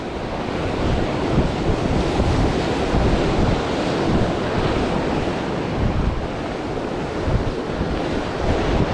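Sea surf washes onto a UK beach in a strong wind, a loud continuous roar of breaking, frothy waves with buffeting gusts on the microphone throughout and no voices.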